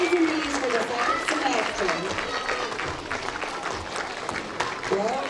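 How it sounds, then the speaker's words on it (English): Applause from students and families at a school awards assembly for grades 3 to 8, steady clapping of moderate loudness with voices and chatter running underneath. "Give them one big round of applause, all A's and B's for the second"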